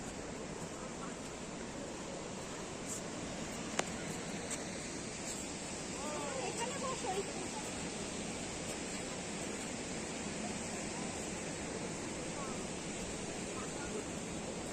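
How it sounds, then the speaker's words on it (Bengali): Sea surf rolls onto the shore at Digha in a steady, continuous wash of broadband noise, fairly distant and even, with a faint human voice briefly in the background. "হ্যাঁ এই তো সমুদ্র"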